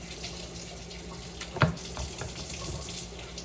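A kitchen tap runs steadily while vegetables are rinsed under it, giving an even close hiss of flowing water with one brief knock partway through.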